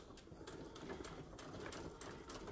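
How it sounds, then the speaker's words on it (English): A sewing machine backstitches fabric for a travel neck pillow, a steady close whirring run of rapid needle strokes with a faint pulsing rhythm. "so I'm going to backstitch."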